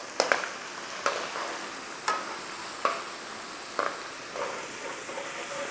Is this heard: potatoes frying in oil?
yes